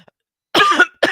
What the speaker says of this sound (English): like coughing during a live, having a coughing fit